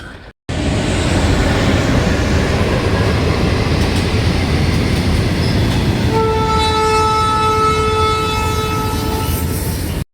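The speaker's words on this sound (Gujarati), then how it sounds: "ટ્રેન આવી માલગાડી છે" A freight train rolls past at Umreth railway station with a loud, continuous rumble and clatter of wagons close by, and a long, steady horn blast sounds over it through the final four seconds before it cuts off.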